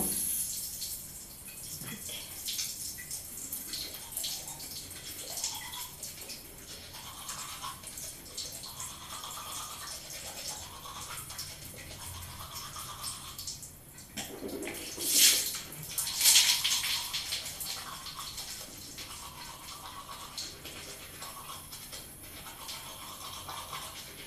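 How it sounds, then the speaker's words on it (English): Someone brushes their teeth at night while a tap runs steadily, with soft rhythmic scrubbing strokes under the flow of water and a brief louder splash partway through. "I brush my teeth."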